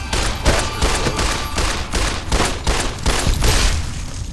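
Repeated pistol shots ring out in the game Fallout: New Vegas, a loud, dense volley of sharp bangs in quick succession with no speech.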